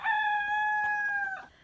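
A rooster on an Italian countryside farm lets out a single long, clear crow close by, sustained and steady before trailing off, with no talking.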